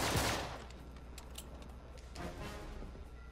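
Enemy gunfire in Uncharted 3 at a shipyard, a burst of fire up front followed by scattered shots and a second volley, loud and close with no talking.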